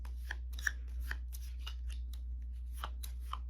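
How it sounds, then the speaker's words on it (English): Lost Ruins of Arnak game cards are shuffled by hand close up, giving a scattered series of soft, crisp card flicks and snaps against a quiet low hum. "They're going to take all the cards that are in their discard area or play area and shuffle"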